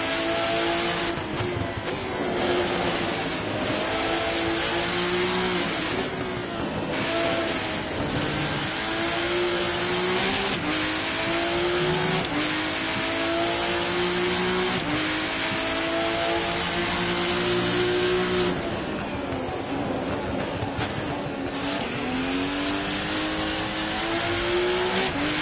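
A race car engine in the RennSport driving game revving hard under throttle, rising and falling through gear changes with occasional tyre squeal, loud and continuous for the whole stretch.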